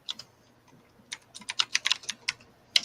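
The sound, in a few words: fast typing on a computer keyboard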